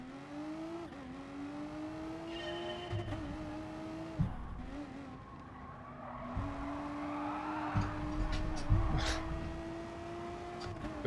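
Race car driven in Gran Turismo Sport, a steady engine drone with shifting pitch as it revs and eases off, broken by brief tyre squeals and bumps, fairly quiet.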